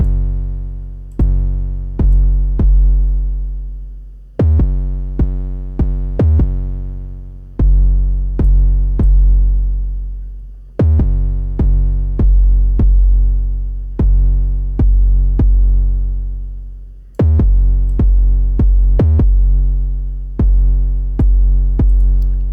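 Deep 808 sub bass notes from the FAW Sublab plugin with added harmonics, a loud sequence of booming hits with gliding pitch, some struck in quick pairs and others ringing out and fading, with nothing else playing.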